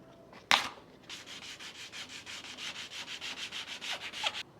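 Hand sanding of body filler on a wheel with 320 grit sandpaper: a sharp tap, then a quick run of rhythmic back-and-forth scratchy strokes, close and fairly quiet.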